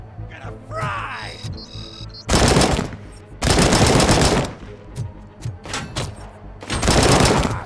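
Heavy automatic gunfire from the video game RoboCop: Rogue City, loud sustained bursts repeating in several long volleys with short pauses between them, with faint electronic hum and small effects in the gaps.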